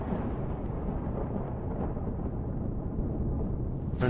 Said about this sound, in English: storm's a little bit loud